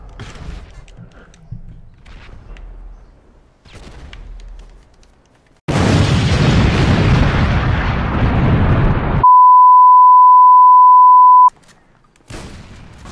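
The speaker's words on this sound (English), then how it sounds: "Who is throwing grenades?" GTA 5 grenade blasts erupt as a long roaring, crackling burst that lasts several seconds and cuts off abruptly. A steady electronic beep tone follows, with quieter game noise before.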